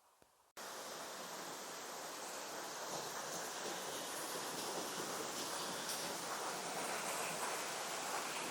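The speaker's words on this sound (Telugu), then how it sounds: "ఇది వాటర్ ఫాల్. ఇక్కడ నుంచి వాటర్ ఫ్లో అలాగే కిందకి వెళ్తుంది అన్నమాట." A waterfall at a forest site roars in a dense, constant rush, with water pouring down nearby and no voices over it.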